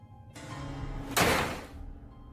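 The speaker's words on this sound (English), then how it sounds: "and the door slams shut." A door slams shut indoors with a single sharp, loud bang that rings out briefly, preceded by a low rumbling movement, with no voices present.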